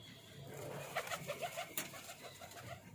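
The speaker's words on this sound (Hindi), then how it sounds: "ये टोटल कबूतर रामपुरी, टोटल रामपुरी हैं" Rampuri pigeons cooing on a rooftop in Lahore, a few soft low coos in a short cluster over quiet outdoor background noise, faint and fairly close.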